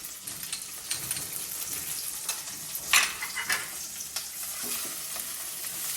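Garlic and green chilies frying in a pan, with a steady soft sizzle and occasional stirring scrapes, fairly quiet and close, no voices.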